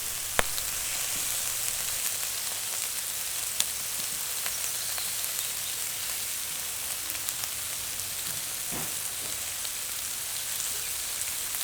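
Bacon sizzling on a Q griddle outdoors, a steady dense hiss and crackle that runs throughout, with occasional sharper pops and no talking.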